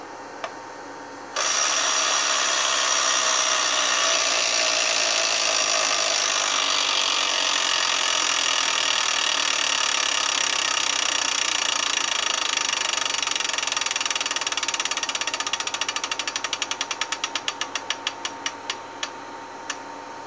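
Electronic Wheel of Fortune Deluxe tabletop game wheel spinning, a loud continuous whirring clatter that starts abruptly and runs steadily, then breaks into slowing rapid clicks as the wheel winds down near the end.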